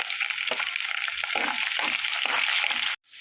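Green chillies hitting a hot tempering of cumin and crushed garlic cloves, a loud, dense crackling sizzle close by, with a few stirring knocks, ending abruptly in a sudden drop to near silence.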